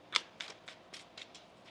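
Tarot cards being shuffled in a quiet room, a series of about seven crisp papery riffles at a steady rhythm, close and fairly soft, the first stroke the sharpest, with no talking.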